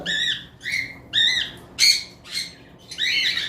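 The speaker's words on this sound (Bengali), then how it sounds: "এখানে একটা পেয়ার লাভ বার্ড দেখতে পারতেছেন" Lovebirds at a bird farm chirp and squawk in a quick series of shrill, sharp bursts, several calls close by with brief pauses between them.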